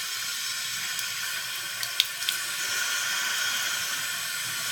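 Water runs from a faucet to flush gritty softener resin out of a home line after a water softener installation, a steady close hiss of flowing water with a couple of faint knocks midway.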